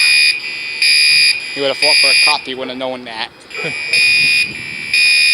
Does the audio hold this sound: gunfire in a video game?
no